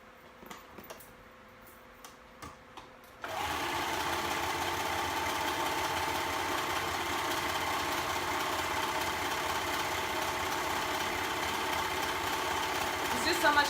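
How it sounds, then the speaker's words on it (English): A serger sewing machine serges double brushed poly fabric. A few faint handling clicks come first, then the machine starts into a steady, fast, whirring hum that runs continuously and close for the rest of the clip. "So here's my serger, so I'm going to serge that"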